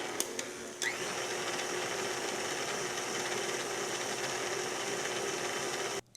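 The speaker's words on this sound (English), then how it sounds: "just start to work in the butter with the food processor until there's a coarse crumbs with the dough" A food processor runs steadily, working butter into graham cracker dough, a constant whirring motor hum with a few clicks at the start before it stops abruptly near the end.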